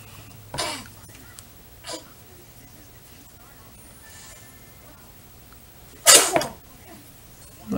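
A sharp, loud sneeze close to the microphone during a quiet indoor makeup session, preceded by a couple of softer breathy sounds and followed by a short trailing exhale.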